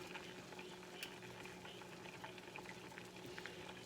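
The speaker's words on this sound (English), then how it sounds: "turn these beans down to a simmer now, or semi-simmer" Beans boiling in a pot on a kitchen stove, a faint continuous bubbling and popping simmer with small scattered pops, quiet and steady throughout.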